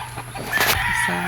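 Pet chickens cluck in short, close bursts while being bathed, louder toward the middle, against steady background noise.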